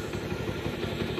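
A motorbike engine rumbles steadily at moderate distance on a busy hillside road, a short, faint stretch of chugging as the rider moves off.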